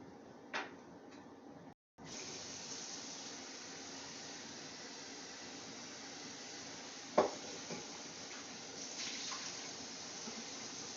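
A raw chicken is rinsed under a running kitchen tap, giving a steady, close wash of water with a few brief clunks and knocks over it.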